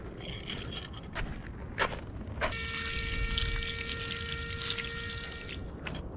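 Fresh fish fillets rinsed under running water at a camp site, a soft splashing pour that starts midway and continues steadily after a few scattered knocks and taps, close by with no talking.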